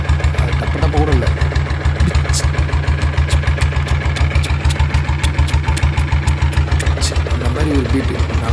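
A diesel Royal Enfield Bullet with an open silencer idles close by, a loud, steady, deep thumping beat with sharp ticks on top, running without pause.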